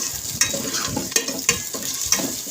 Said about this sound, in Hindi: गोश्त को हम फ्राई करेंगे।